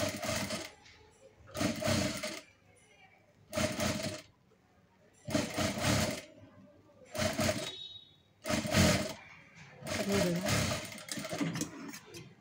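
Sewing machine stitching lace onto fabric edge, repeated short whirring runs of about a second each separated by pauses, close and clear, with someone talking quietly in between.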